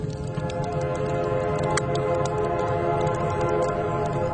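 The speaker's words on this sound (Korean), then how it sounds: "이윽고 멀리서 기적 소리가 울려왔다." A train whistle sounds from the distance in a sustained, steady tone over a rumbling rail background, with no talk over it.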